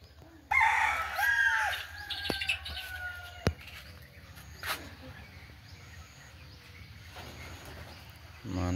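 Roosters crow among Bangkok fighting chickens and village chickens at morning feeding time, with one fairly close, clear crow near the start, then softer clucks and distant bird chirps over steady outdoor background noise.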